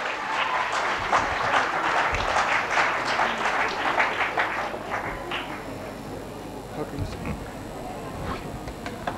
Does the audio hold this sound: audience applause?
yes